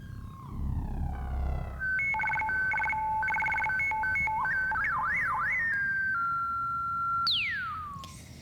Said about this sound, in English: It is now dial-up time.